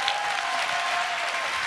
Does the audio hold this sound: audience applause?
yes